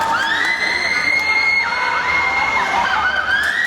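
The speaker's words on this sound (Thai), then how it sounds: "มาเบิ่งว่าผู้บรรยายจะสู้เสียงกองเชียร์ได้บ่" A large crowd of supporters cheers and shouts loudly and continuously at a doubles match in the Lao national games in Vientiane, with high excited voices and whoops sustained throughout.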